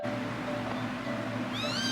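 Baby kittens meow in a cluster of high, wavering cries toward the end, rising over a steady low background hum; the first part holds only the hum.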